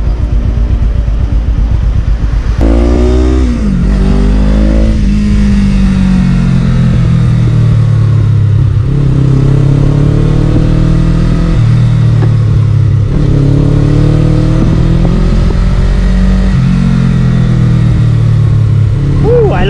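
A Suzuki GS500 motorcycle engine revs and accelerates repeatedly, loud and close, its pitch rising and falling through gear changes with steady road rumble.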